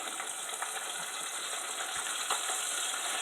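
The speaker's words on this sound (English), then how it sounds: "Frying away." Pieces of chicken fry in hot oil, giving a steady, fairly quiet hiss and crackle with small pops, heard alone without talk.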